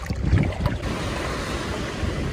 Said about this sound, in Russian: Начинается шторм